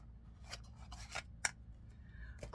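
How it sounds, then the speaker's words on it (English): Tarot cards handled and put away at a table: faint, close rustling and sliding with a few soft ticks and slaps, intermittent and quiet, no talking. "I'm just putting some cards away here so that they're out of my way."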